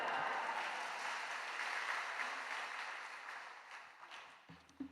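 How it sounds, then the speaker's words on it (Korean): Steady applause from a church congregation filling a large room, sustained and even, fading slightly toward the end. "큰 박수로 맞이하시겠습니다"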